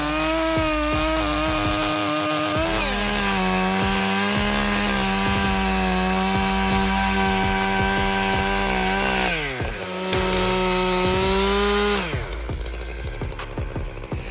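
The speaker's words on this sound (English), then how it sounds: "He was very excited by the power of this style MS661 chainsaw, which helped him get the job done quickly." A Stihl MS661 chainsaw bites into a big log with a loud, continuous high-revving whine, the pitch dipping under load and recovering as the cut goes on, close and steady with no voices.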